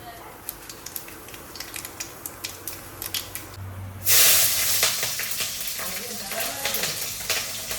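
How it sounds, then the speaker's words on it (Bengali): Nigella seeds drop into hot oil in a home kitchen, bursting into a loud, bright sizzle midway that keeps crackling steadily after faint clicks and kitchen clatter. "এবারে তেল গরম হয়ে গেছে, কালো জিরা ফোড়ন দেবো একটু"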